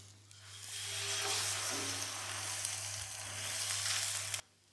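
An egg fries in hot oil on a pan for egg paratha, giving a steady, close sizzle that runs almost the whole time before cutting off abruptly near the end.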